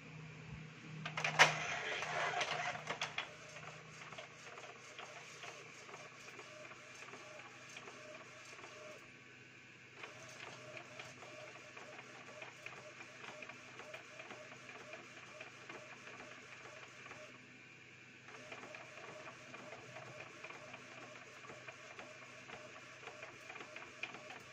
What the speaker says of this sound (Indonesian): test print page.